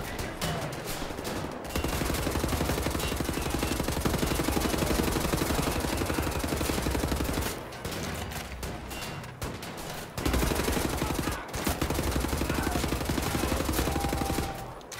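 Heavy, continuous gunfire in Wolfenstein: The New Order as shotgun-armed armored enemies are fought with an electric laser sniper rifle, dense loud blasts and crackling shots with only brief gaps throughout, no talk.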